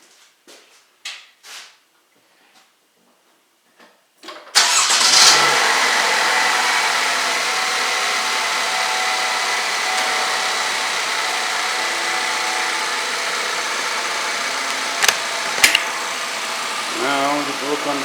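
A 2014 Chevy Malibu engine cranks and catches after a few soft knocks and clicks, then runs on in a loud, steady, close drone with a brief voice near the end.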